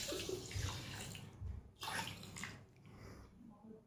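Water pours from close by into a large pan holding 500 grams of sugar to make syrup for coconut topra pak, a soft rushing splash that briefly dips and resumes.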